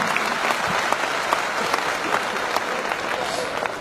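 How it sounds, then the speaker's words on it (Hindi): An audience at a direct-selling business seminar on goal setting claps steadily and loudly for about four seconds, a dense, even applause with no talking over it. "मैं चाहता हूं एक ताली आज इस मंच से बीसी छाबड़ा जी को धन्यवाद देना"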